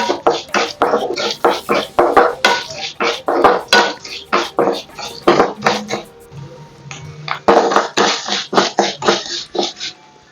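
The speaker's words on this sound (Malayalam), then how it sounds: "ഫ്ലെയിം കുറച്ച് വെച്ചിട്ട് വറുത്തെടുക്കുകയാണ് നല്ലത് കേട്ടോ" Coriander seeds, chickpeas and lentils roasting in oil in a pan, heard as a quick series of close, loud scraping and clattering strokes from stirring, in an uneven rhythm with a brief pause midway.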